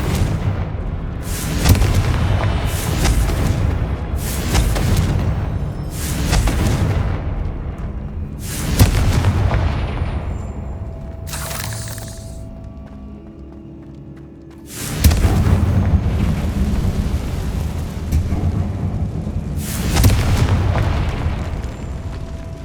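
Explosive spell blasts in the video game Hogwarts Legacy: a series of loud, booming bursts arriving every second or two, with a brief lull midway before the blasts resume.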